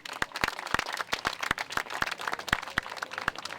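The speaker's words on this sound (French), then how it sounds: "Sous vos applaudissements, merci." An audience at an evening talk on Kurdish issues in France claps, sharp individual hand claps standing out over a softer, steady patter of applause that keeps going throughout.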